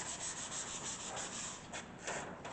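A 16-inch Max disc sander with a tilting table runs steadily nearby, giving a continuous hissing, rubbing whir with no voices.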